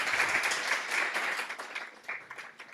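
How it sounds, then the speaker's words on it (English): Audience applause at a tech innovation week event in Barcelona, a dense patter of clapping that stays steady and then thins out toward the end. "Big applause"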